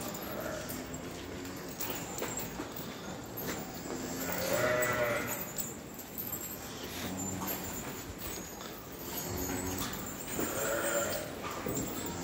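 Heifers bellow and low repeatedly in a barn at feeding time, several calls rising from a constant background hum and clatter, moderately distant and overlapping.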